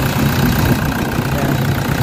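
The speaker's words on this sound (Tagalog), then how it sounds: "so far okay na yung andar ng makina" Toyota Fortuner engine idling steadily after repair, a continuous close mechanical hum with a low, even rumble and no pauses.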